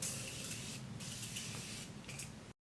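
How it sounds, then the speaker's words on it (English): Morphe Continuous Setting Mist sprayed onto a face, a close, steady hiss lasting over two seconds with brief breaks before cutting off abruptly. "And now I'm going to set my face with the Morphe Continuous Setting Mist."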